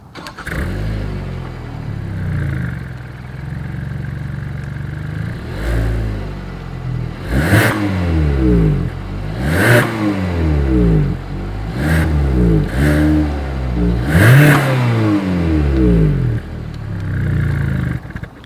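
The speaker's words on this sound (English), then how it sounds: "So as always, here is that exhaust clip." A 2020 Hyundai Tucson SUV engine idles, then revs repeatedly, each throttle blip rising and falling through the exhaust, loud and close, with several sharp revs in a row.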